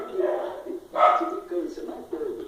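A parrot imitates a dog's barking in a few short bow-wow bursts close by, in between coaxing human speech.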